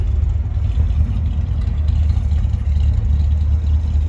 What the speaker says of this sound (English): But you hear the exhaust from back here.